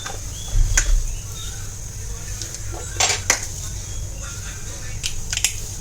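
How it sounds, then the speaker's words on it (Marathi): Mustard seeds and cumin crackle in a pan of hot oil, with a few sharp popping bursts over a steady low hiss, close and moderately loud. "राई छान तडतडली"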